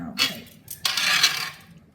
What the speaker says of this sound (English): sorry about that scraping noise